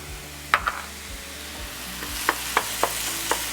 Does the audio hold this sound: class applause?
no